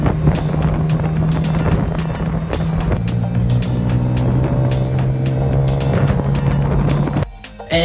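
A tuk-tuk ride in Thailand, with a loud, continuous motor drone and road rumble throughout and a steady engine hum shifting in pitch. The noise dips briefly near the end.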